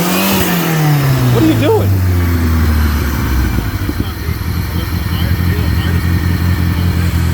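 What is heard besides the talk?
1989 Shelby Daytona engine revving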